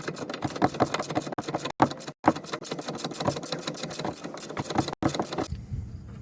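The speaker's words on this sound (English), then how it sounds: "Got a ratcheting wrench that should help a little bit more. So I'm going to go ahead and loosen that." A ratcheting wrench clicks in rapid, even bursts as it loosens a ball-joint nut on a 2011 Ford Edge, close and crisp, with brief pauses between runs before stopping.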